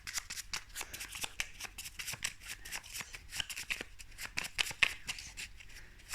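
Tarot cards being shuffled by hand: a quiet, rapid run of papery flicks and soft slaps, uneven in rhythm, continuing for several seconds.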